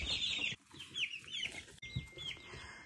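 Many young chicks in a crowded small pen peep and cluck continuously at close range, a dense chorus of high chirps with no voices.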